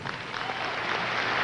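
Steady tennis crowd applause in Madison Square Garden after the McEnroe vs Lendl final of the 1984 Volvo Masters, a dense continuous wash of clapping that holds loud throughout.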